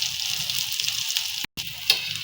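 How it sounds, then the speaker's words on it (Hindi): Saag paratha frying in a pan gives a steady bright sizzle with a low bubbling underneath, briefly cutting out before resuming. "फ्राई हो रहा है, पराठा हमारा"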